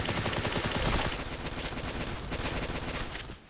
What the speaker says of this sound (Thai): เสียงปืนจะประมาณนี้นะครับ